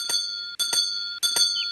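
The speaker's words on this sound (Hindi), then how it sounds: "कौन घंटी बजा रहा है?" A doorbell rings in an animated cartoon scene, sounding three bright, ringing electronic chimes in quick succession, each a short repeated tone separated by brief gaps, loud and close with no talk over it.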